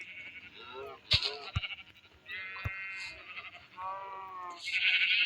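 Sheep bleating in the video game Minecraft, a few harmonic bleats repeating over several seconds with sharp clicks between them, while someone speaks Bengali through much of it.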